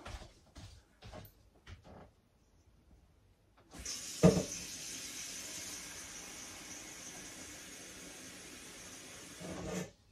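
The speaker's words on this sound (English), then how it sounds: "I'll put some water in this bowl." A few soft knocks and rustles, then water gushes steadily from a tap into a container for several seconds before cutting off.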